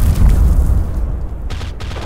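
AK rifle fire in a multiplayer shooter game comes as loud, booming low-end blasts, with a couple of sharp cracking shots near the end over a dense, rumbling background.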